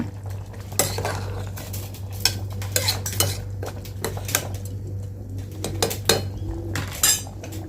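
A spoon scrapes and clinks against a metal pot as rice is stirred into tomato rice, with a steady low hum underneath and irregular knocks.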